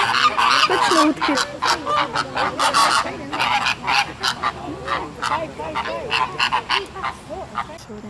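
Ducks at a zoo squawk and honk in a loud, dense chorus of repeated nasal calls, close by, with the calling thinning into scattered bursts toward the end.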